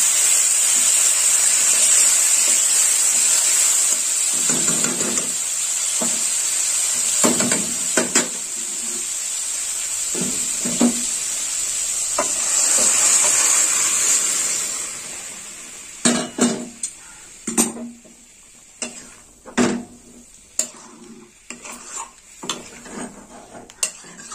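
Chicken goes into a pan of curd-based curry with garam masala, bringing a soft sizzle, then repeated clinks and scrapes of a spoon against the pan as it is stirred, the frying hiss fading partway through.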